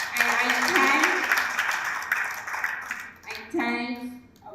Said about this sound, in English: Please give them a thunderous applause.